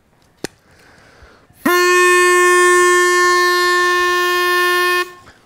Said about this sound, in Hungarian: Gyártottam egy szívószál dudát.